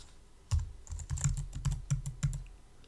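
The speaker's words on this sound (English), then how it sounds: "So please type your username / and the repository name to confirm." Keys of a computer keyboard clack in a short burst of several quick, close taps after a brief pause, typing a username and repository name, with no voice.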